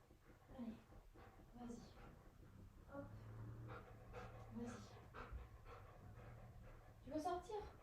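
A female dog who keeps falling over pants and whimpers indoors, close and fairly faint, with quick rhythmic breaths, soft whining cries, and a faint steady hum underneath throughout.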